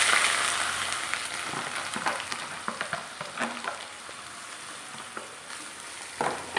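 Chopped ginger and garlic are sautéed in a pan for Kerala-style fish pickle, giving a soft steady sizzle with repeated light scrapes and taps of stirring.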